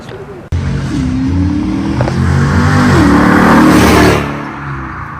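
A car with an aftermarket exhaust and cold air intake, making about 400 horsepower, starts up after a sharp click. It then revs loudly and steadily close by, rising in pitch before the roar fades at the end.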